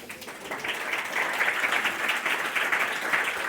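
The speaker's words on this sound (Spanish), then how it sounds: "¿Pueden aplaudir un poco, sí?" Audience applause at a Spanish-language presentation of a literary magazine issue, a steady wash of many hands clapping that swells slightly and holds throughout, with no talk over it.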